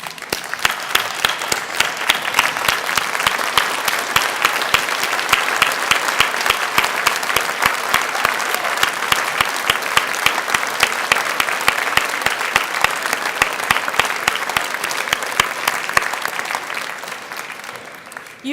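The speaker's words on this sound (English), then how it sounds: "So turn around and give them a huge round of applause," An audience at a university degree ceremony applauds loudly and steadily, with dense, continuous clapping that fills the whole stretch and holds an even level throughout.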